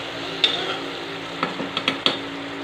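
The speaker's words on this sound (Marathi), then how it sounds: "आता हे व्यवस्थित कांदा आपण तेलात परतून घेऊयात।" Onion sautéing in oil for chicken biryani sizzles steadily up close while a spoon scrapes and clinks against the pan a handful of times.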